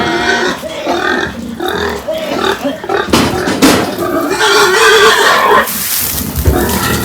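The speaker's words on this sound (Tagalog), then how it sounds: "Ay baboy. Ayun, nagpapaligo na si Ate Celia." Pigs being bathed on a farm, with loud grunting and squealing mixed with splashing water and clattering close by, while people talk over the commotion.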